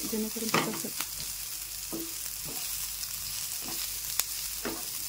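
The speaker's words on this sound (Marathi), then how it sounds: "तो जोवर ट्रान्सपरंट होत नाही तोवर कांदा फ्राय करून घेऊया." Chopped onion frying in a pan for tondali bhaji, a steady close sizzle broken by a few short scraping stirs of a spatula, with no talking.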